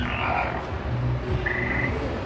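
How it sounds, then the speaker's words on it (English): A lily pad sound toy at Universal Studios gives out a string of croaking frog calls, fairly close and clear over a busy park background. "when you step on the lily pads down there, they each make a little noise"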